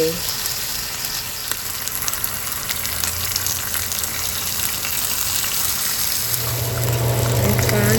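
Bacon sizzles and spits steadily in a hot pan, a close, continuous crackling hiss that swells slightly near the end.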